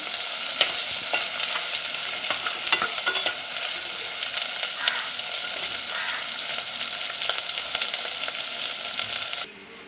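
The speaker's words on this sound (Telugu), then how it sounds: "ఈ టైంలో కొంచెం కళ్ళుప్పు వేసుకుందాం, ఉల్లిపాయలు తొందరగా వేగుతుంది" Sliced onions with salt fry in hot oil with a dense, continuous sizzle, crackling close and steady throughout before cutting off near the end.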